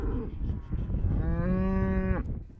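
A cow moos once on a working cattle ranch, a long harmonic call swelling and then cutting off abruptly, heard close and loud over steady outdoor background noise.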